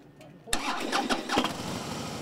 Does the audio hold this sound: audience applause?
no